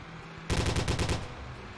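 A gunner's weapon in the OFP military game fires a quick burst of about eight rapid shots, loud and close, cutting in sharply over a steady background hum.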